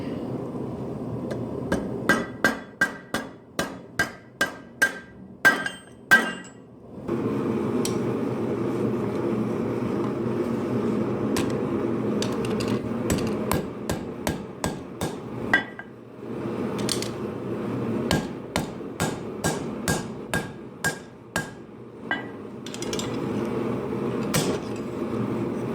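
A hammer rings on a rivet while setting the joint of hand-forged blacksmith tongs: a run of sharp metallic strikes, a pause, then further bursts of clanging blows, loud and close.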